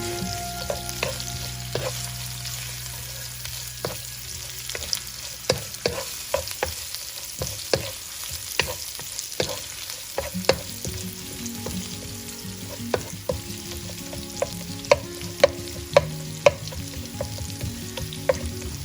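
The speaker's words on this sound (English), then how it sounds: "I'm going to add the coconut into it and fry the coconut till it turns a nice brown." Grated coconut fries in a pan for a Chettinad chicken curry paste, a soft steady sizzle broken by frequent sharp scrapes and taps of a spoon stirring against the pan, close and alone without talk.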